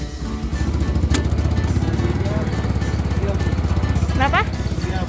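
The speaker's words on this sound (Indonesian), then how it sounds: "Nah, kita mulai menaiki becak motornya guys" A motorized rickshaw on Penyengat Island chugs close by with a rapid, rhythmic engine putter, while voices talk over it.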